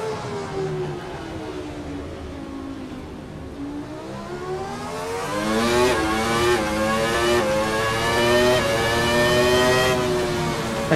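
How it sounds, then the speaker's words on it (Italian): A Ferrari F310 B V10 Formula 1 engine in Assetto Corsa revs steadily, its pitch climbing and falling through gears, then louder and higher in the second half, a continuous shrieking drone with no voices. "sentite questo sound ragazzi, sound del motore V10 Ferrari"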